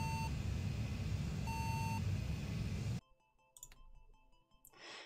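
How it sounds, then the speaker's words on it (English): A radar warning receiver in the Saab AJS37 Viggen cockpit in DCS gives two sharp steady beeps for an F-15 radar signature over loud engine and wind rumble, then the cockpit falls quieter with faint clicks. "there we have a beep, and that's the F-15's radar signature"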